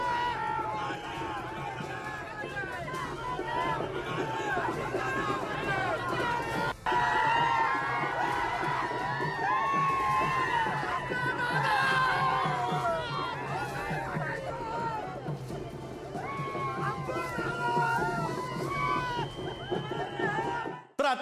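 Party workers at an election victory celebration, a dense crowd of cheering and shouting voices with whistles and chatter, continuous and lively at middle distance.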